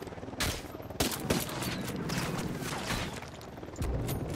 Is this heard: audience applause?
no